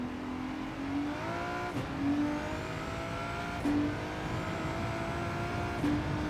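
A race car engine in Gran Turismo 7 revs up through the gears in rising whines, with a brief dip at each upshift repeating about every two seconds, steady and close with no talk.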